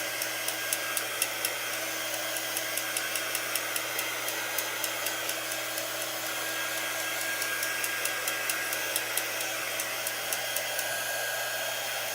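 A hair dryer blowing steadily up close to dry a wet ink mat, a continuous loud whirring roar with a faint rapid ticking running through it and no voices.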